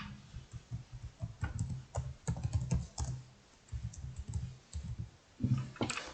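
Fingers type on a computer keyboard in quick, uneven bursts of close, crisp clicks with short pauses between them, entering text in a PDF-XChange Editor field.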